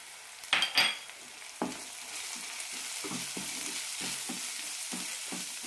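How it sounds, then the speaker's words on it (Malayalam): Turmeric, chilli and roasted coriander powders are sautéed in a pan for a peanut curry. A steady sizzle runs throughout, with a few sharp utensil clanks near the start and repeated soft scraping strokes of stirring, and no voices. "പൊടികളുടെ പച്ചമണം പോകുന്നവരെ വഴറ്റിയെടുക്കാം"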